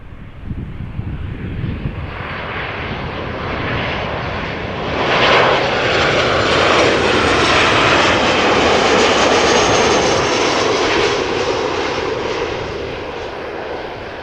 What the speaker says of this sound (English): Over here we're waiting for KLM flight 1228, Boeing 737-900 arriving from Paris Charles de Gaulle.